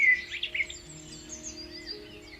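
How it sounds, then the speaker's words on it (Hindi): Small birds chirp and tweet in a sunny, peaceful outdoor scene, with light, scattered calls above a faint steady background hum. "पक्षियों की चहचहाट"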